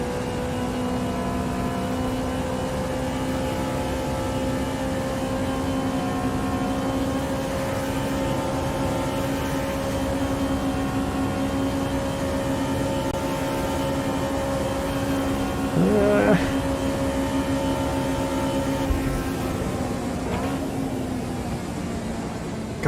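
Race cars from Automobilista 2 drone steadily at Daytona, several engine notes holding long sustained tones with a brief rising pass near the end, continuous and fairly loud with no talk over it.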